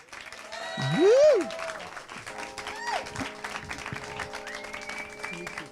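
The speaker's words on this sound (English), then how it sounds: "can we get a round of applause for Willie Estrada?" A studio audience claps for a guest, a burst of applause and cheering with one loud whoop near the start, then fading under a speaking voice.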